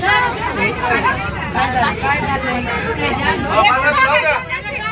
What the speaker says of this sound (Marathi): बसमध्ये बघा किती गर्दी.